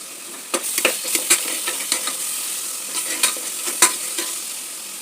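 Onions with ground spices and ginger-garlic paste frying for rice give a steady close sizzle in a pan, broken by irregular scraping stirs of a spoon, loud and without any talk.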